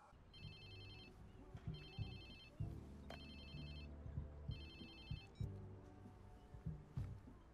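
A cell phone rings in the open-world game Watch Dogs 2, repeating in regular electronic bursts of bright chiming tones over a low, continuous background hum.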